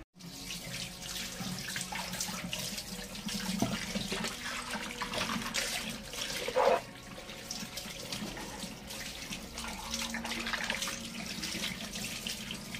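Shoes are washed under running tap water, a steady hiss and splash of water falling into a sink for the whole stretch, with brief louder spatters.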